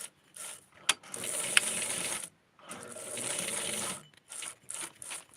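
Sewing machine stitching close to the edge of small doll clothing, short close bursts of fast mechanical whirring separated by brief pauses, with a few sharp clicks between runs.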